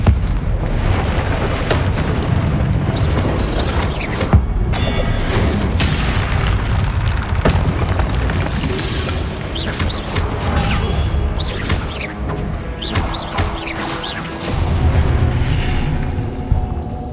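The Confringo fire spell bursts in the Hogwarts Legacy video game, a loud booming blast that rolls into a sustained rumble of crashing debris and magical effects, with more impacts layered over it and no talking.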